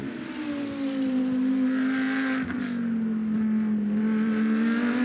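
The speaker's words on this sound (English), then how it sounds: "out of the chicane comes the number 11 Audi, back onto the power, and now the run along the straight" The number 11 Audi GT2 race car powers out of a chicane at the Paul Ricard circuit, its engine droning loud and steady as it accelerates onto the straight.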